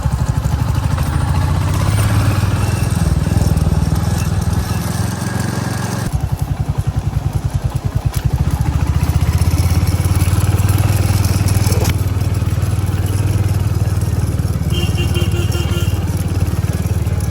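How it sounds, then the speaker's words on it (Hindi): A rented motorcycle climbs a narrow mountain road on the route toward Kedarnath, its engine droning close and continuously, with a rougher, pulsing patch midway as the revs shift. Faint clatter rides along under the steady motor. "इमेजिन करो कुछ ऐसी जगह पे चढ़ाते चढ़ाते बाइक लेकर आ चुका हूँ"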